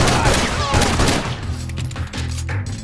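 Rapid video game gunfire bursts out loud and close in a shooter match, a dense volley that trails off after about a second, with a player's voice under the game sounds.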